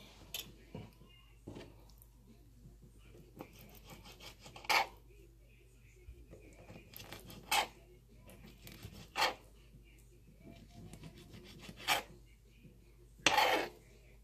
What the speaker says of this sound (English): I got the noodles boiling and I'm chopping up my chicken.